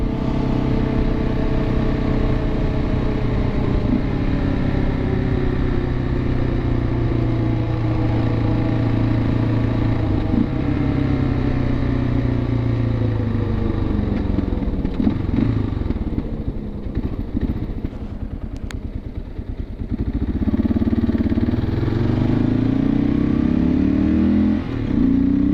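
A 2006 Kawasaki KLR motorcycle on knobby off-road tires rides along a street, a continuous loud engine drone with shifting revs and a steady tire hum, close and uninterrupted for the whole stretch.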